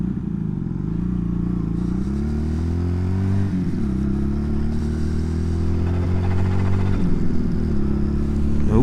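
A Honda CD200 motorcycle engine idles and revs unevenly, a steady loud rumble whose pitch dips and rises several times, with an uneven, lumpy running note and no voices over it.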